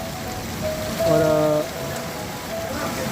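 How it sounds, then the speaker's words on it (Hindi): Heavy rain falls steadily in a Pakistani village, a dense, even hiss of drops on surfaces throughout, with a brief tonal hum rising in the middle and a voice speaking faintly near the end. "आज बारिश बहुत ज़्यादा है"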